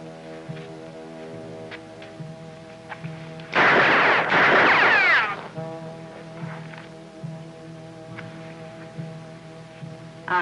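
Trick sharpshooting gunfire from a 1950s TV western: a loud, dense burst of rapid shots lasting under two seconds, standing out over a steady background music bed.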